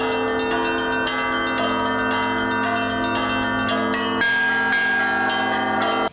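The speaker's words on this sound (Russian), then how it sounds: "пронзающий звон колоколов" Bells of an Orthodox cathedral in Sochi peal loudly and close, several bells struck in quick overlapping rhythm with ringing tones that sustain continuously and then cut off abruptly.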